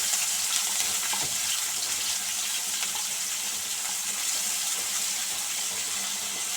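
Chopped onions frying in oil with cardamom, cinnamon, clove and bay leaf for a mutton curry, a steady broad sizzle hissing close and unbroken, with no talk.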